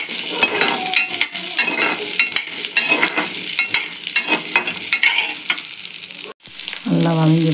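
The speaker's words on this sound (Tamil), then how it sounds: "இதையும் நல்லா வதக்கலாம்" Onion, tomato, ginger and garlic sautéing in a pan for a country chicken curry, with a loud, close sizzle and repeated scraping stirs running throughout.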